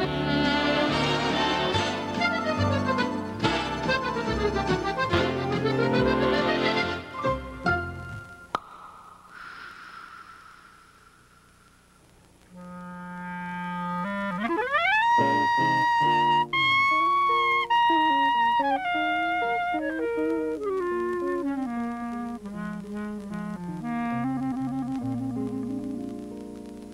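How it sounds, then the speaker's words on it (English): A Dixieland clarinet plays a lively, swooping solo line over a band, with bright trills and glides, after an opening burst of ensemble music. "That's the sound of a New Orleans clarinet."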